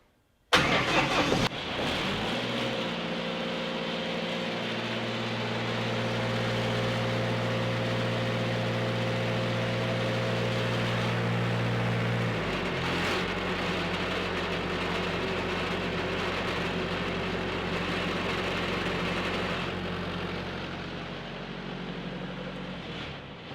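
A Lincoln SAE welding machine's engine cranks briefly on its starter, catches and then runs on at a steady, loud idle with a shift in pitch midway through. No one talks.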